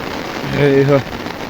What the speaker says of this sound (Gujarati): વરસાદ તો આવે છે, આમ જોઈ લે ભૂકા કાઢી નાખે કે નહીં